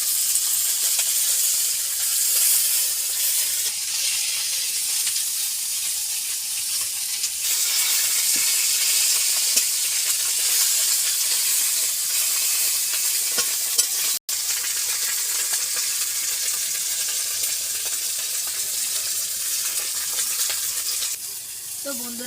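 Koi fish crackles and sizzles in hot oil as it crisps, a dense, steady hiss that carries on without a break. A few soft scrapes come from stirring.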